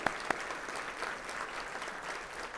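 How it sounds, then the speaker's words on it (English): Steady applause from a crowd fills the space, with a couple of sharper claps standing out near the start, continuous and moderately loud throughout. "let's give Dr. Tedlock and all our colleagues here a big round of applause."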